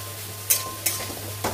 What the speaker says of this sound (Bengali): পুরো একদম বেরেস্তা করেই তুলবো পেঁয়াজগুলোকে